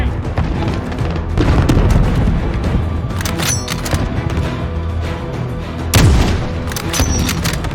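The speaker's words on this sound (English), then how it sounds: "Fire, RPG!" RPG rocket launched and bursting in Modern Warfare Spec Ops gameplay, heavy booms and gunfire-like blasts rolling continuously at close range, with a sharp louder hit near the end.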